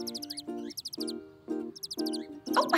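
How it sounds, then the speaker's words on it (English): Bright, rapid bird chirps come in short repeated bursts, alternating with a steady low hum between phrases. "Do you like the sound of those birds"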